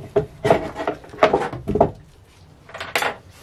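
Cold process soap bars are cut freehand with a soap cutter, giving several close scraping, sliding strokes in uneven bursts with short pauses between them.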